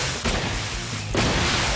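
An air-pressure rocket blasts off with a loud whoosh, a burst of broadband rushing noise that surges twice over under a second and a half.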